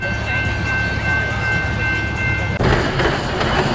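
The train of the Superman Ride of Steel roller coaster at a Six Flags amusement park rushes by, a loud broadband roar that surges suddenly toward the end over steady background hum.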